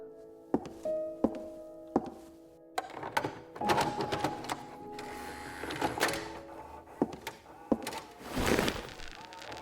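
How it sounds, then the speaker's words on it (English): A playback machine started with a push of its play button gives a few sharp mechanical clunks and taps, then a busier running clatter, all close and fairly quiet, with faint speech in places. "I simply pushed play on the machine"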